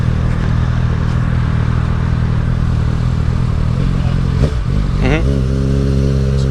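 A moped engine drones steadily while riding outdoors, a loud constant hum with some rattle that changes pitch briefly near the end as the throttle shifts.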